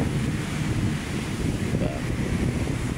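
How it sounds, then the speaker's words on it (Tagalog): Strong waves wash steadily along Manila Bay, a loud, continuous roar of surf mixed with heavy wind buffeting, with no clear breaks. "Maalon na, oh. Alon, lakas. Lakas na alon."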